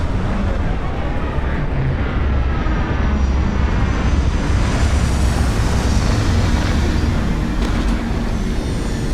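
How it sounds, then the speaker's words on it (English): A spaceship's retro thrusters fire during a landing in the Starfield video game, a loud, steady roaring rumble that holds without pause from start to finish. "Retros firing."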